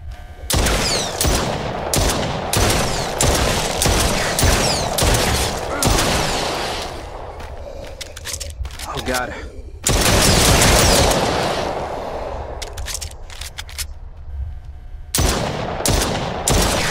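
Rapid bursts of gunfire from a zombie survival video game, with loud, dense volleys of shots for most of the stretch and a short lull in the middle before the firing resumes.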